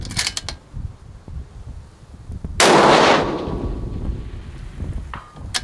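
A single FN SCAR 20S rifle shot cracks loudly at long-range practice and rings out with a decaying tail, while soft background noise and faint clicks fill the quiet before and after.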